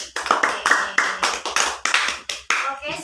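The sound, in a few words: class clapping for a student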